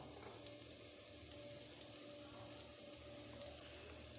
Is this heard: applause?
no